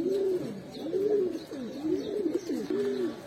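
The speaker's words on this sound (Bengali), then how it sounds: "ওই খাঁচাতে সরানোর পর এখন ডাকতেছে কবুতর" A pigeon in a cage at a pigeon seller's stall coos about five times in a steady, repeating rhythm. The calls are close and clear, with no talking.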